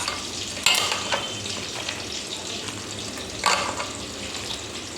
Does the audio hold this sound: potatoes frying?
yes